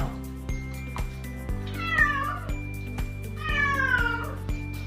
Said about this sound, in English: These dang cats.